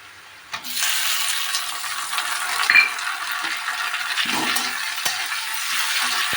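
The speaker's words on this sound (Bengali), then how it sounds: "এরপর আমি এর সঙ্গে দিয়ে দেব টমেটো কুচি" Chopped tomato tipped into a pan of frying onions for a moong dal with drumsticks, then stirred: a steady close hiss of frying with soft scraping and clinks of the spatula throughout.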